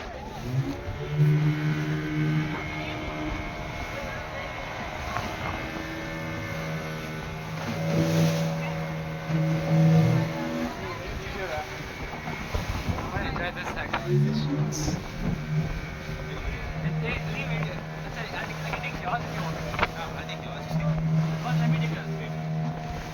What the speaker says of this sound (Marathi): चालू तर झाली बोट